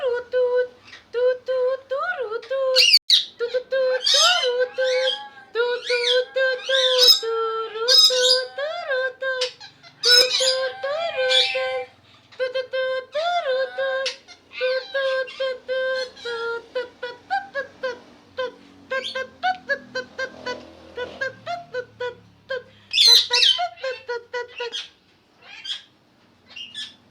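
Pet parrots squawking and screeching indoors, loud and close, in repeated harsh calls and squeaky chirps over nearly half a minute, with a person talking between bursts.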